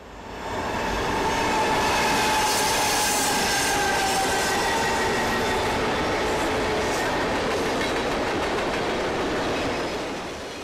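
CSX freight trains pass through Lafayette, a steady loud rumble of rolling wheels with squealing rail noise and a faint clickety-clack holding for the whole stretch.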